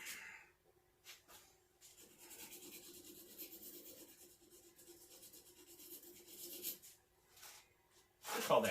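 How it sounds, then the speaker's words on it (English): Soft, steady rasping strokes of sandpaper rubbing on a hard brass part in a workshop, close by and fairly quiet, pausing briefly near the end. "I can just do some quick sanding on this."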